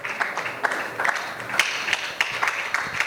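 Audience applause for an award winner at a women in finance and investment summit and awards ceremony in Ghana, steady mid-level clapping with scattered sharper claps over a hall ambience.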